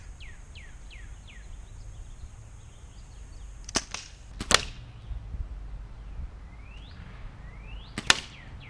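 Daisy 74 BB gun fired at a bottle outdoors, a few sharp isolated cracks spaced seconds apart over quiet background with birds chirping.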